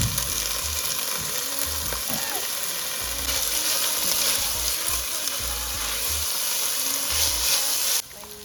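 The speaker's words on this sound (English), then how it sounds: "Okay, oil, and then we're going to add some onion." Onion frying in cooking oil for a lamb stew, a steady close sizzle with some stirring clatter, running continuously and dropping slightly in level near the end.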